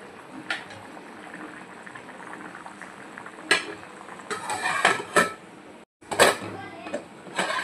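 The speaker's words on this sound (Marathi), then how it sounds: "मटणला बघा छान अशी उकळी आलेली आहे।" Hyderabadi mutton masala curry boils in a pot with steady bubbling, broken by sharp clinks of a metal spoon against the pot and a brief pause before the clatter resumes, close by; a voice speaks briefly at times.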